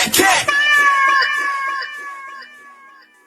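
A cat gives a loud, drawn-out meow that opens sharply and then trails off slowly, sounding close and clear with no one talking over it.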